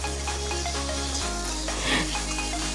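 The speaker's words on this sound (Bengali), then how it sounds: "তেল দিয়ে আগে চিংড়িগুলো ভেজে নেব।" Small shrimp frying in oil in a wok, a steady loud sizzle with a low hum underneath and a few crackles and pops over nearly three seconds, with no talking.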